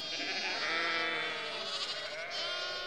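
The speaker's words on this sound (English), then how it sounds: "We live on a farm and we have lots of sheep and lambs." Lambs bleat on a sheep farm, several wavering, nasal cries overlapping continuously and fairly close by, with no talking.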